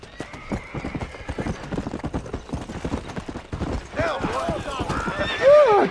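A horse in Red Dead Redemption trots with steady, close hoof clip-clops and then gives a loud whinny near the end, with game sounds and a voice heard in the background.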